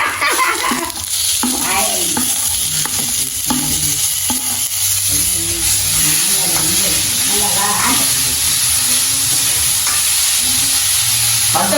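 Oil sizzles and crackles steadily in a pan, with occasional stirring scrapes and faint background voices under the hiss.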